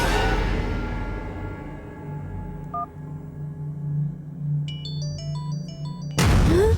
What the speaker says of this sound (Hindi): मोबाइल से कॉल आ रहा है।